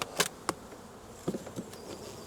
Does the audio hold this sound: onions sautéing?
no